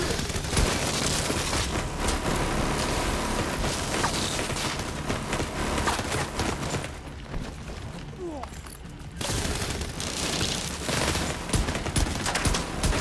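Sustained gunfire in The Division 2 video game, dense bursts of shots and rattling fire filling most of the stretch with a brief lull midway, a voice talking over it.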